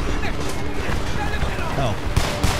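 Gunfire rattles in the Homefront video game during a chaotic battle, dense bursts and scattered shots mixed with explosions and heavy action noise, with a player talking over the top.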